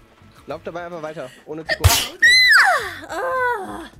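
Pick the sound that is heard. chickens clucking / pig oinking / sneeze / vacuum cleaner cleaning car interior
sneeze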